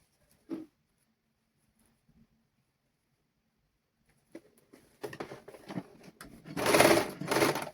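A sewing machine stitches a band onto a children's garment. After long near-silence and a few faint clicks, its whirring bursts grow louder and busier over the final three seconds.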